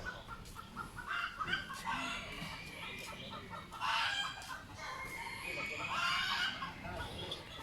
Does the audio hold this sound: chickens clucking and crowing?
yes